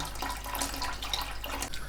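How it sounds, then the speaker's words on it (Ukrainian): Steady rushing of warm water poured into a pot holding jars of marinated cucumbers, a continuous close splashing stream with no pauses. "Тепер я заливаю воду в каструлю."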